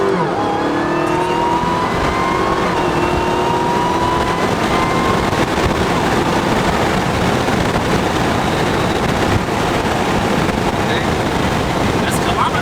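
A Chevrolet Camaro SS engine roars as it revs and accelerates hard, loud and close, with the engine note climbing steadily throughout while people talk over it.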